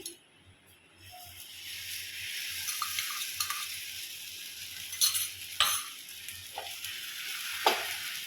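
Roti frying in a pan for egg rolls gives a steady soft sizzle and crackle with a few sharper utensil clicks and scrapes near the end, alone without talk.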